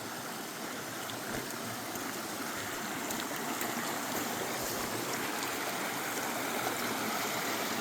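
Clear stream water runs at Blanchard Spring in the Ozarks, a continuous close rushing and babbling wash that stays even and unbroken throughout, with no voices.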